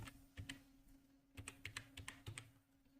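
Close, quiet typing on a computer keyboard while a PEN number goes into a login form, with a few keystrokes, a pause, then a quick run of about eight taps.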